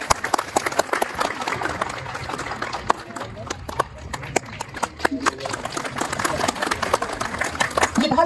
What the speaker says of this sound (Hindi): तालियों की आवाज आसमान तक जानी चाहिए।